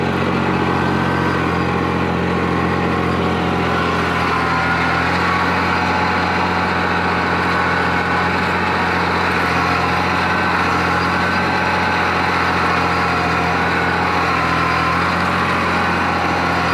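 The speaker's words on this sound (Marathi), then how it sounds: "पाहू शकता कसा ट्रॅक्टर चालतो आहे." A Kubota B2741 compact tractor in a sugarcane field runs steadily with a constant engine drone and low harmonic hum, close and unbroken throughout, with no voices.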